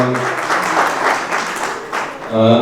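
A crowd claps in sustained applause with a voice rising over it, and talking resumes as the clapping continues near the end.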